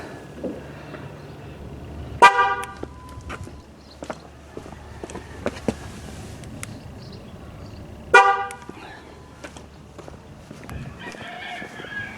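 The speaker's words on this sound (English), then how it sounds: "And the car is supposed to honk" Two short horn toots from a 2009 Ford Fusion sound several seconds apart during a smart junction box setup, with footsteps and small rustling noises between them and a faint bird call near the end.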